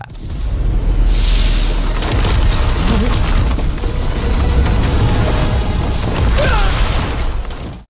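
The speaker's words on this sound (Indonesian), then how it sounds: "ledakan maha dahsyat mengguncang dunia" A huge, booming explosion effect roars continuously for nearly eight seconds, loud and close, with rumbling low end and crackling, crashing debris textures, and no voices over it.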